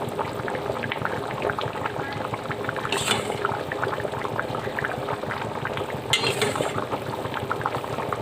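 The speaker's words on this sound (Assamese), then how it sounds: "এতিয়া এইখিনি উতলি আছে" Paneer gravy boiling in a pan of vegetarian curry, a continuous close bubbling simmer with soft liquid gurgles and two brief brighter hissing bursts partway through.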